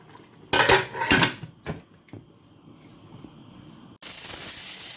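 Metal cooking pot (cocotte) with water inside being covered, a few sharp clanks of the lid settling on the rim, close and alone, followed by a loud steady hiss.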